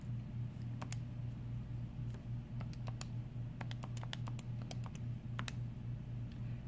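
Quiet, scattered key presses on a calculator keypad as figures are entered for an algebra example on exponential functions, irregular taps over a low steady hum, with no talk.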